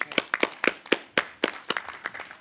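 Several people clap their hands for the journalists at a CAF president's press conference: a sparse, uneven run of sharp, separate handclaps, fairly close and moderately loud, with no talking over them.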